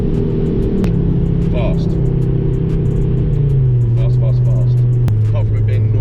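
Cabin drone of a modified 500 hp Ford Focus RS Mk2 while driving, a steady loud engine hum with gear-like pitch steps under someone talking.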